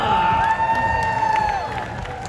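A stadium audience at Fear Factor Live at Universal Studios Orlando cheers loudly for a contestant, a dense roar of shouts and clapping with a sustained whistle-like tone riding over it, fading slightly toward the end.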